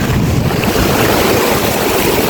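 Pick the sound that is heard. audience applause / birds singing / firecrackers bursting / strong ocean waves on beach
strong ocean waves on beach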